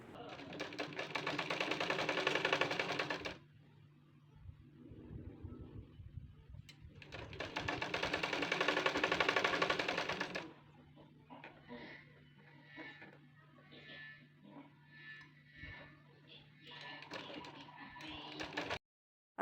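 Sewing machine stitching a hook strip onto a blouse: two long bursts of loud, rapid whirring stitching, separated by quieter handling and a steady hum, with a faint voice speaking near the end.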